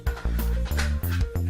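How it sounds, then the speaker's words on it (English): A pet dog makes a run of about five short, close, tonal vocal bursts in quick succession, each starting abruptly, with no talking over them. "And that is the sound of my dog."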